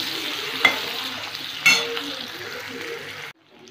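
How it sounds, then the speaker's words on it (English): Chopped onion and green chilli frying in a pan, a steady close sizzle with two sharp stirring clinks. The sizzling stops abruptly near the end. "So we have to fry this onion until it becomes brown in color"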